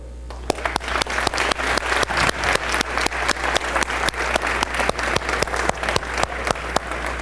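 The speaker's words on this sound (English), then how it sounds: "now is your moment to give them the round of applause that they deserve." A graduation audience at a military academy gives a sustained round of applause, steady dense clapping with sharp individual claps standing out over a low constant hum, continuous throughout.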